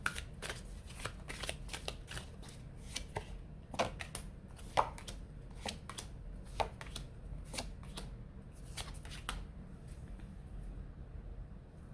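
A deck of tarot cards being shuffled steadily for about twelve seconds, a dense run of quick riffling flicks and soft card slaps close to the mic, with no talk over it.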